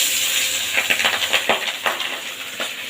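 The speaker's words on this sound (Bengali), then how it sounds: "এই তেলের ওপরে আমি মাছটা দিয়ে দেবো" Pabda fish seasoned with nigella seeds hitting hot oil in a pan, giving a steady loud sizzling hiss with bursts of crackling spatter that swell and fade.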